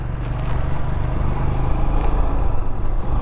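Heavy lorry traffic on a highway in southern India at dawn, a loud steady low engine rumble and road roar from vehicles rolling close by, continuous with no voices.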